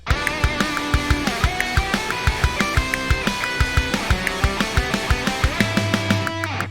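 A full music arrangement for an anime-style opening plays on its own, with a steady beat of punchy kick hits under layered synth chords and a repeating melodic line.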